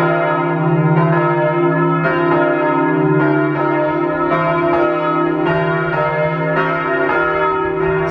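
Church bells ring steadily at a wooden church in Romania, several bells sounding together in a loud, continuous peal with repeated strikes roughly every second or so, and no talking over them.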